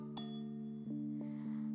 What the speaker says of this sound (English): I'm going to ring my bell 3 times to make sure you've got your Bible.